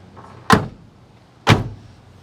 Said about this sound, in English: the doors have a nice thud to them